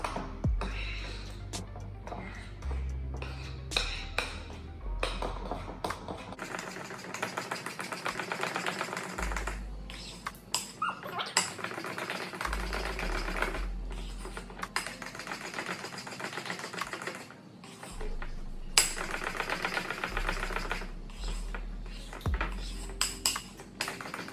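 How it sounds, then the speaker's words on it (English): Funnel cake batter of flour being stirred in a bowl, a long stretch of repeated scraping and clinking strokes against the dish in uneven bursts, close and fairly quiet, with a low hum beneath. "Stirring this up so that it's well blended and we get all of the clumps out."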